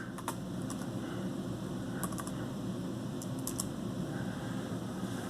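Laptop keys tapped in short bursts while a BIOS password is entered on a Dell Latitude, light close clicks spread over a steady low background hum.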